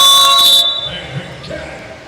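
Loud basketball halftime buzzer at a Stallion Cup game, Razon vs CW Home Depot, a sustained harsh electronic tone that cuts off abruptly after about half a second, leaving quieter arena noise.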